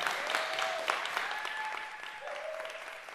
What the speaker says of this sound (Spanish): ¿Qué tal si le da más fuerte el aplauso al Señor?